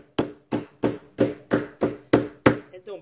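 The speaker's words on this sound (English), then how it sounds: "Hit that one over. You just use a little socket." Eight evenly spaced metallic taps ring out close by as a hammer drives a part into a Mercury Verado trim cylinder using a small socket, each strike sharp and loud, with a pair of softer knocks at the end.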